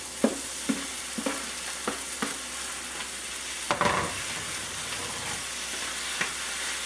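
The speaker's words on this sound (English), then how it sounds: "I'm going to cook this as long as it takes for all the meat to become evenly brown" Beef browning in a pan for stroganoff sizzles steadily while a utensil scrapes and stirs it in a regular rhythm of close, distinct clacks, with one heavier scrape midway.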